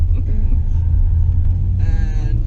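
A standard Volkswagen Golf Scirocco, front-wheel drive, drifts at a motorsport expo in Dubai, its engine a loud steady rumble with a brief higher whine near the end, voices mixed in.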